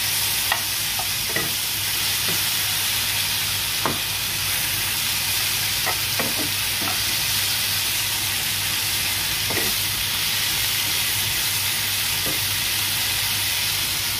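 Ginataang tilapia simmering in coconut milk in a pan, with a continuous loud sizzle and occasional light clinks and scrapes of a utensil stirring, heard alone without any talk.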